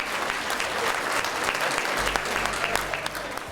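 Dense, sustained applause from the crowd at the 20th Annual Fraser Valley Cultural Diversity Awards, with many hands clapping at once, steady and loud throughout, and a low murmur of voices beneath.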